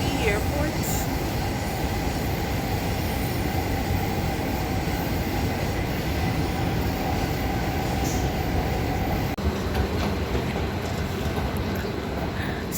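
A train passes near the airport in Washington DC with a steady, loud rumble of wheels on rails and faint squeals, close by and unbroken for over twelve seconds.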